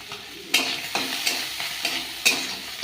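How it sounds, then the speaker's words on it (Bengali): Prawns being reheated and stirred in a frying pan: a steady sizzle broken by several sharp scraping strokes of the stirring spoon, close and fairly loud, with no voices. "চিংড়ি মাছটা একটু গরম করে নিলাম"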